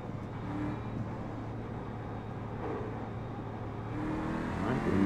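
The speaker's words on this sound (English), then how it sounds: "Sound of the car was too loud or whatever" A race car engine in the iRacing sim drones steadily at a sustained hum, building slightly toward the end, moderately loud with no talk over it.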